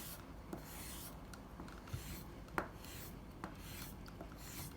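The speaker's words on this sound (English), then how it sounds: "So we start by putting some rouge on it." A hard white jeweler's rouge block rubs across a leather strop, a quiet scratchy rasping in short repeated strokes with faint knocks, no talking.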